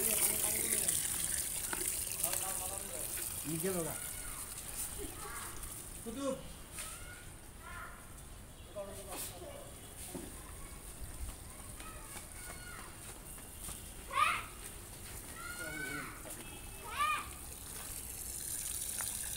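Water rushes steadily through an electric pump hose in a continuous gushing flow for watering plants, with someone talking over it throughout.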